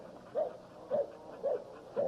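Fat Bill, a yard dog with a pinned leg and a bobtail, lets out four soft, evenly spaced tonal whimpers. The cries are fairly faint and have no talk over them.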